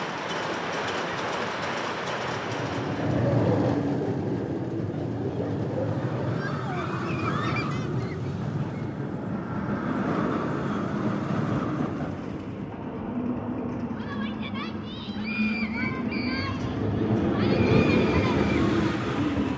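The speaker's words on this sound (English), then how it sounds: "Can we ride the coaster?" The Jupiter wooden roller coaster at Kijima Kogen theme park in Japan roars along its track with a steady rattling, clattering rumble, loud and close from onboard, while riders shout and scream over the noise.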